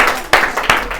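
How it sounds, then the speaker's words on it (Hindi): Students in a classroom give a short burst of clapping, with a few sharp, close hand claps rising and falling over about a second. "अपने सब के लिए तालियां हो जाए"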